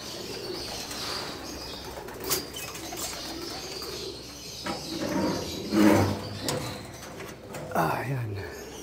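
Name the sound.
racing pigeons flapping wings entering the loft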